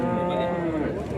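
A cow at a cattle market in Chintamani gives a single short, close moo of about a second over faint market background.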